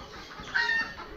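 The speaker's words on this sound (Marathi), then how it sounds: "आता हे बघा हे तुम्हाला कोंबडे बघायला मिळतील" Chickens in a Konkan village yard, a short burst of clucking that rises briefly in the middle, fairly close.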